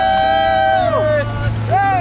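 A boat's outboard motor drones low and steady while voices call out over it close by, in Antarctica.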